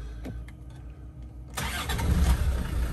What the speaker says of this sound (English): quick video of start up and running on this 2003 Defender 110 TD5 XS